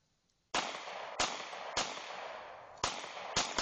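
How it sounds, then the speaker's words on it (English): Five sharp, loud gunshots from a Glock 22 .40 caliber pistol crack out at uneven intervals, each with a short decaying echo, fired close by outdoors. "Glock 22, 40 caliber"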